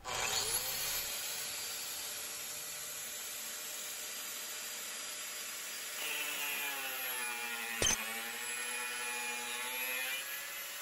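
An angle grinder on a homemade DIY stand cuts material clamped to wood, giving a steady, loud high-pitched whine whose tone shifts partway through as the disc bites in, with a brief sharp spike near the end.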